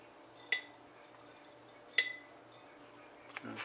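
Two sharp glassy clinks, then a fainter third, ring out against a quiet kitchen as mustard seeds and peppercorns are dropped into a glass jar of kosher dill pickles.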